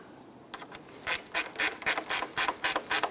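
A ratchet snugs down the cooling fan assembly bolts on a 1992-1996 Toyota Camry 2.2L four-cylinder, giving a close, rhythmic run of crisp clicking bursts that speeds into a steady back-and-forth pattern.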